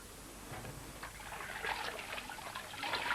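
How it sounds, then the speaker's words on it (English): Water trickling and splashing from a twin tub spin dryer into the tub below, a steady close flow with no talk. "water runs out of the spin dryer into the tub"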